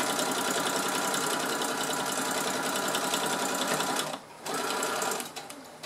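A sewing machine hums continuously and close-up as it stitches fabric scraps together, stopping briefly near the end before starting up again.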